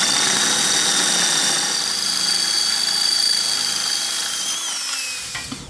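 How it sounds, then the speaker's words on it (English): A power drill runs in a long steady whine, boring a hole for Schrader valves on a Jeep Wrangler, close and loud before spinning down at the end. "I'm going to finish drilling it out"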